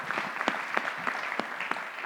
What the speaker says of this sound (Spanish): Un aplauso, por favor, para Silvia.